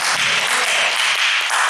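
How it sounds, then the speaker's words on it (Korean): A congregation claps together at an evening church revival blessing service, a dense, steady wash of many hands applauding all at once, fairly loud and close, with no talk over it. "박수 한번 쳐."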